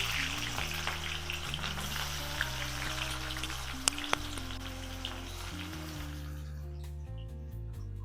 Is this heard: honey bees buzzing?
no